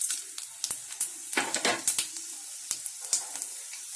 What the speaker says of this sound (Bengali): আমার সর্ষের তেলটা গরম হয়ে গেলে ওতে আমি একটা তেজপাতা দিয়ে দিচ্ছি, আর দিচ্ছি 5 ফোড়ন